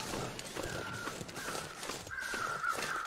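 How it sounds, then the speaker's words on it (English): Several crows caw repeatedly in the distance in the video game The Long Dark, harsh calls spaced over a steady outdoor background hiss. "I can hear crows over here."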